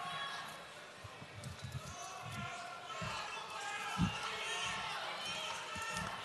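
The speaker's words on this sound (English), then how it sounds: "You can hear the crowd." Home crowd noise at a world judo championship elimination bout, a steady broad murmur of spectators with thumps from the mat and a commentator talking over it.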